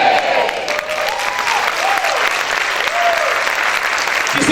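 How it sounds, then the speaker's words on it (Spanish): A church congregation applauds loudly, a dense sustained wall of clapping with scattered cheers and voices rising through it, holding steady throughout. "Si ese aplauso es para el Señor, déselo fuerte."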